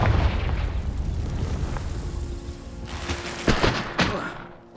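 The Confringo spell explodes in the video game Hogwarts Legacy: a heavy rumbling blast that fades out, followed by a few sharp cracking bursts.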